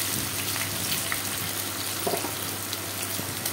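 Small fish frying lightly in mustard oil in a wok, a steady broadband sizzle and hiss running throughout with small crackles, continuous and close.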